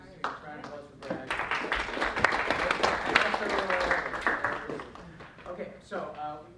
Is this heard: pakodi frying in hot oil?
no